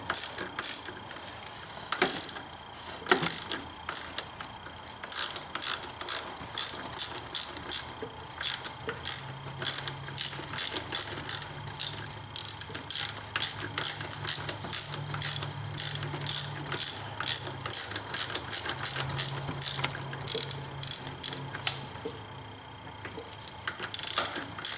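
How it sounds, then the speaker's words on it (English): A worn idler pulley from a BMW E46, spun by hand, gives off rapid ratcheting clicks and a rough grinding whir in repeated bursts, quiet and close with no voices. "See, this one actually does have some grinding to it."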